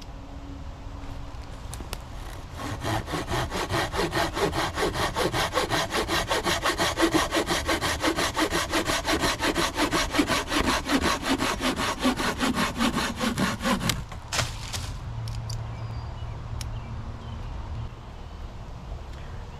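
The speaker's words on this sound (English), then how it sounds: "let's just cut a few pieces of wood," A Silky Gomboy 240 backpacking saw cuts through wood in steady, rapid rasping strokes that run for about twelve seconds, loud and close, then stop abruptly, leaving quieter handling noises.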